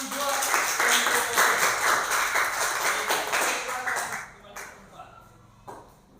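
Classroom applause from a student group rings out loud and dense for about four seconds, then thins into scattered claps and quiet, with speech mixed in.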